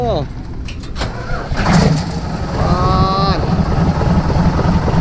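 A car engine cranks and catches at the start, then revs briefly and settles into a running idle, close by, with people talking throughout.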